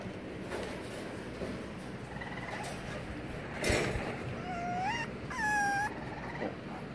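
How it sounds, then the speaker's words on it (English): Dog whimpering in a few high, rising whines near the end, over faint room noise with no talking. "Not that big doggy is gonna eat you."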